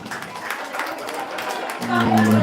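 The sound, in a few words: crowd giving lively applause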